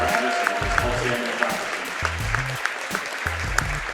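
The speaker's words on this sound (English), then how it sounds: "Let's give her a big round of applause" A crowd at a girls' high school basketball game at Edgar applauds a player's scoring record, sustained clapping and cheering filling the gym while an announcer speaks over it.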